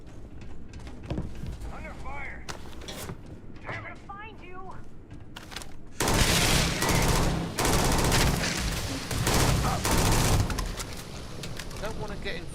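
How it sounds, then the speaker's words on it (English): Gunfire in the Starfield video game, with rapid bursts and scattered shots that build into dense, loud continuous firing during a combat encounter. Speech is also present. "Under fire!"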